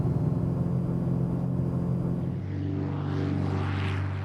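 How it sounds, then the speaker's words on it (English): A small propeller plane used for Civil Air Patrol sky-watch flights drones loudly and steadily close by as it takes off, with the engine pitch shifting partway through. "The short takeoff and slow speed of these small planes is ideal for Skywatch work."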